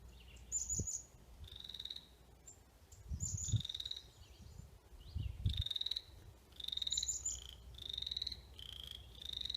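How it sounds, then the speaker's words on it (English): Frogs croak in low, throaty bursts, some single and some in quick clusters, while birds chirp high and repeatedly in the background; the calls are moderately close, with no voices. "There go the frogs."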